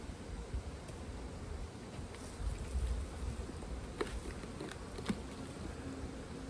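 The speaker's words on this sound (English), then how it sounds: "Really a good number of bees in here" A dense, steady buzzing of many honeybees in an open hive fills the air close by, with occasional soft knocks and rustles of handling.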